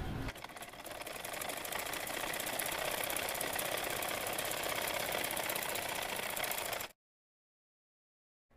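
A sewing machine runs steadily while stitching a kameez, sewing along one edge after the piece is turned, with a continuous fast mechanical whir for about seven seconds before it stops abruptly.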